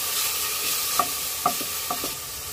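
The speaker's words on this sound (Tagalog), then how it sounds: "Pinapamantika ko yung aking pork, yung aking pansahog." Pork pieces and pata bone toasting in hot oil in a pan, a steady close sizzle punctuated by a few soft stirring knocks, no talking.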